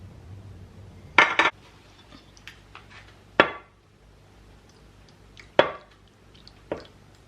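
A roasting pan holding a large fish stuffed with pumpkin and callaloo goes back into the oven, heard as a few sharp metallic clanks and rattles of the pan and oven rack, spaced apart with quiet between them.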